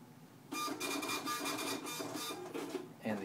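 A restaurant kitchen printer linked to an iPad POS system prints an order with a rapid, buzzing mechanical chatter lasting a few seconds, then ends with a short final feed burst, heard close and alone.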